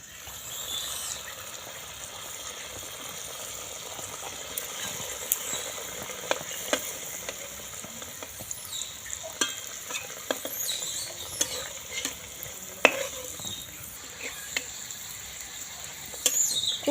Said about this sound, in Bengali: তেলের মধ্যে বাকিগুলো দিয়ে ভেজে নেবো